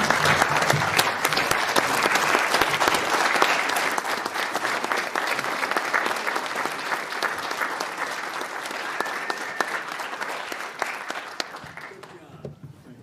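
Applause from voters at the Andover town meeting fills the room, a dense, steady clapping that holds strong before thinning and fading out near the end.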